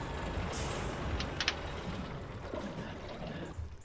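Truck in SnowRunner shutting off its engine: a loud air-brake hiss bursts near the start over a steady low engine rumble, then a few short sharp hisses follow as the engine winds down.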